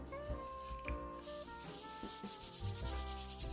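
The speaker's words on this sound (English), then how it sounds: "we just have to burnish, burnish, burnish" A paper craft piece is burnished by hand, quiet rubbing strokes repeating at close range over faint background tones.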